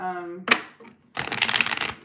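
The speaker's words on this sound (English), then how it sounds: "I want to shuffle it a little bit better" Tarot cards are shuffled in a dense, papery riffle of rapid flicks during a reading. A voice speaks briefly just before the shuffle begins.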